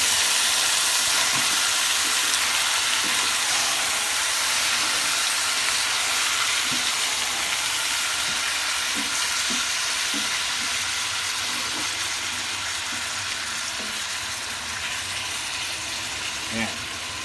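About a kilogram of pork for Filipino kalderetang baboy frying and being stirred in a pan, a steady broad sizzle and hiss throughout with faint scraping stirs, a voice talking intermittently over it.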